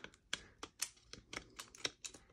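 Scissors trimming paper starbursts on a handmade cupcake box, a string of sharp crisp snips in an uneven rhythm, close and quiet with no talking.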